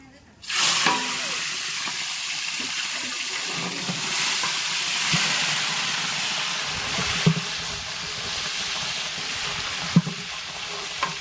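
Oil heats in a large pan for dal, hissing and sizzling in a strong, steady wash after a sudden start, with occasional pops and stirring clatter while people talk nearby.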